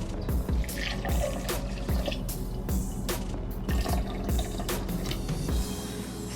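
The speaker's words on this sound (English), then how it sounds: "Next I'm gonna add in like a cup or two of water." Water is poured from a cup into a blender holding drained seeds, a close, gurgling splash with rhythmic glugging bursts and dripping over several seconds.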